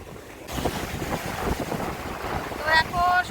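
Strong wind buffeting the microphone at Digha sea beach, with the steady rush of waves beneath it and a few faint high tones near the end.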